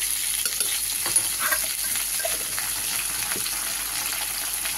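Ginger paste sizzles in a hot pan of oil for a Bengali pepe (pepe) fish curry, a steady close frying hiss with faint stirring scrapes and no talking.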